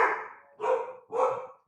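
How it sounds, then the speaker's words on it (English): Three loud, close barks from dogs indoors, evenly spaced about half a second apart, each bark sharp and full, with no talking over them. "Excuse my dogs."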